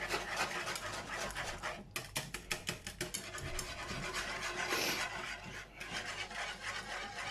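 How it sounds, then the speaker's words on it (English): A metal whisk beats milk into a flour roux for a mornay sauce, producing rapid rhythmic scraping strokes against the pan, loud and close, with a steady background hum. "So I'm going to whisk this out a little bit more, and then that will start to thicken up again into another roux."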